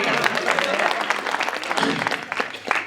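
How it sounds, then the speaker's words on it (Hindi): Applause from the audience at a Hindi poetry recital, a broad wash of clapping that swells and thins over a few seconds, fairly loud, with faint voices mixed in underneath. "ताली बजाओ यार"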